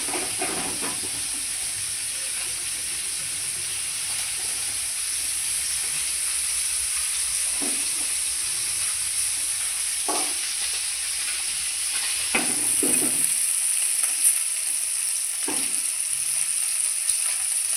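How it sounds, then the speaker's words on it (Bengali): Small puti fish frying in hot oil, a steady broadband sizzle and hiss running throughout with a few brief stirring scrapes, fairly close and continuous with no talking. "দেখুন, পুঁটি মাছটা ভাজা হয়ে গেছে।"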